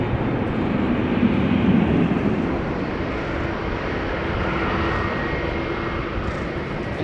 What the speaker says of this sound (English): And the 777 is taking off.